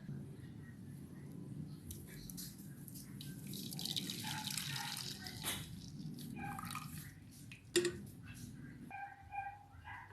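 Water pours with a soft, splashy trickle into a pot for making mulberry jam, fairly close and quiet, with a clink partway through.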